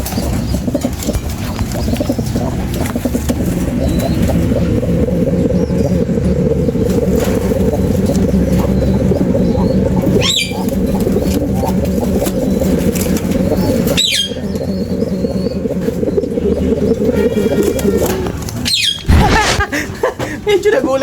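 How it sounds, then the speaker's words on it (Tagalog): A male dove coos in repeated low, throaty phrases against steady background noise, with a few sharp knocks and rustles near the end. "Pakinggan nyo mabuti kung anong huni ng kanyang barako."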